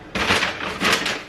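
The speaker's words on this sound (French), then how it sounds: "Excusez-moi pour le bruit du paquet." A plastic packet of tortellini crinkles close up in two short bursts of rustling and crackling.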